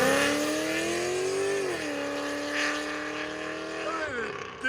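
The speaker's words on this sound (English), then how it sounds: "Open Chevy Corvette, LS3 swap, long tube headers, and cam, and all that good stuff." LS3-swapped C5 Chevy Corvette with long tube headers, cam and Valvetronic mufflers, engine revving loudly with a steady roar, pitch dipping and rising again, close up.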